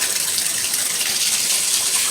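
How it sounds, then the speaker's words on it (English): Bubble bath water pours over bath toys in a tub with a steady, close, hissing gush that runs unbroken for the whole stretch, with no talking. "we're gonna pour bubbles on them"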